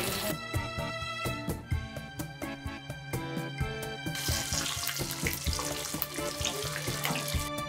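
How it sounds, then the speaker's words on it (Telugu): Fish pieces fry in hot oil, a dense, steady crackling sizzle with sharp pops near the start, continuing close and moderately loud without any talking. "నూనె కాగింది, చేప ముక్కలను వేసుకుందాం."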